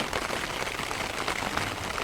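Steady monsoon rain pattering on a surface, a dense, even hiss of drops with no pauses and no voices.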